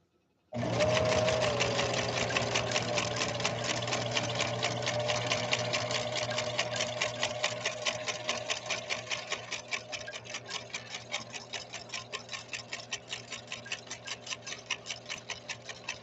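Husqvarna Viking sewing machine starting up and running a stitch pattern, a close, steady rapid mechanical clatter with rhythmic ticking that continues unbroken and slows slightly toward the end.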